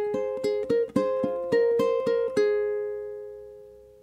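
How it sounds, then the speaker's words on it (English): A ukulele plays a bar of Danse Macabre, including a tricky slide: about a dozen crisp plucked notes in a quick, uneven run, with the last chord left to ring and fade alone. "it's got this really tricky slide in the first part"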